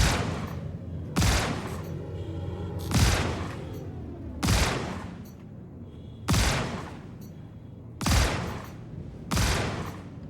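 Spaceship shotguns fire in the video game Star Citizen, seven heavy blasts spaced about every second and a half, each booming and then rumbling away over continuous background noise.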